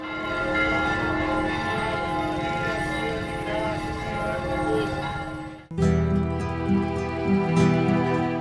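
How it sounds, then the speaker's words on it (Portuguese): A church bell rings out at a parish festivity, its sustained tolling strong and steady throughout, with a sudden shift partway into brighter, layered peals, and a voice faintly present beneath. "E na festividade o sino também repica de uma forma muito bonita."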